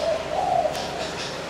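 A spotted dove, wild-caught two months earlier in the forest of Phú Yên, coos steadily in soft low notes, close and clear against a faint background.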